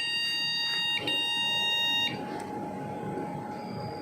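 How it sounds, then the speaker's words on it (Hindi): A desktop PC with its RAM module seated in the second memory slot gives a steady, piercing error beep, a continuous high electronic tone with a brief break, over constant fan hum and no talking. "सेकंड स्लॉट पे जो है सिस्टम बीप दे रहा है"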